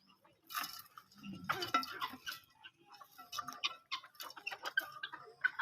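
Village chickens cluck and squawk close by while being fed grain, with irregular bursts of fowl calls mixed with light clattering and scattering sounds.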